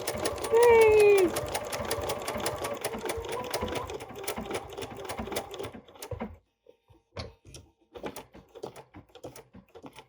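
A sewing machine stitching a machine-applique flower pattern: rapid, even mechanical stitching for about six seconds, then stopping, followed by scattered small taps and handling noises.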